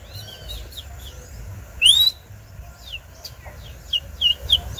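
A person whistles imitations of bird calls outdoors, giving a series of short rising and falling chirps and tweets, one sharper louder call in the middle and quicker chirps toward the end, over a low background rumble.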